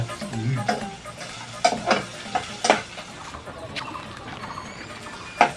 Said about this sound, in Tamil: பச்சை மிளகாய் வெந்துட்டு இருக்கு